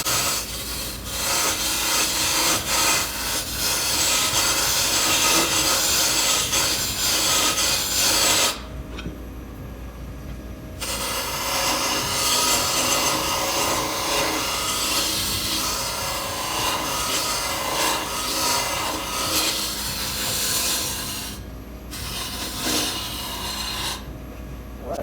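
Wood turns on a lathe while a parting tool cuts into the spinning piece. The scraping, rasping cut stays loud and close and breaks off briefly twice before resuming, with no speech.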